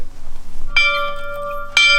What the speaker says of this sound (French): Il y a encore une belle cloche en haut. Tu penses qu'on peut la faire sonner?